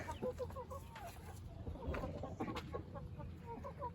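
Backyard chickens cluck and chatter continuously around a coop with a chicken swing, several birds calling at once with short overlapping notes close by, under steady background noise.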